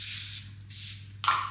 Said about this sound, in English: so like some cooking spray